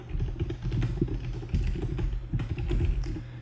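Keyboard keys tapped in quick irregular bursts while an email address is entered, close and clear with brief pauses between runs of keystrokes.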